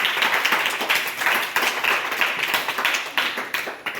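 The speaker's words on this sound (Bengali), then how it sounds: "এই শিক্ষিকার জন্য একটা হাততালি।" Steady, moderately close clapping from a small audience goes on for about four seconds in honour of a teacher at the opening of a free coaching centre, with no talking over it.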